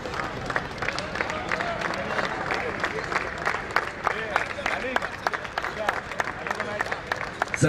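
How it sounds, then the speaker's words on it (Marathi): Audience applauding batsman Mohit Rathod, man of the match and six-hitting star, at a local cricket match: steady, sustained clapping from a crowd, moderately loud and even throughout, with murmuring voices mixed in. "एकदा जोरदार टाळ झाला पाहिजे फलंदाज मोहित राठोड याच्यासाठी"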